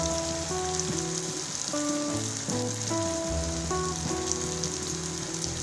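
Masala fish curry sizzles steadily in a pan, a continuous close crackle and hiss, with a light background melody playing over it.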